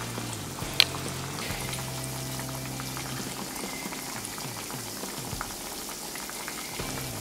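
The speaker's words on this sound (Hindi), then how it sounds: "हम इसे ऐसे लगाते हैं और ऑयल में फ्राई करने के लिए डालते हैं" Bread pizza pockets deep frying in oil, a steady bubbling crackle like light rain with one small sharp pop near the start, heard alone without voices.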